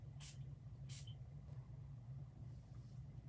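Two quick bursts of perfume spray from a Creed Fragaria bottle, short sharp hissy puffs close by, then a fainter third mist over a quiet low hum.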